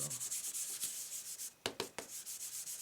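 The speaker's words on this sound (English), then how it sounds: "get this nice and covered with your embossing buddy" Steady rhythmic rubbing of an embossing buddy over basic black cardstock, a close, dry swishing that repeats in quick back-and-forth strokes, broken by a few firmer scuffs partway through, with no voices.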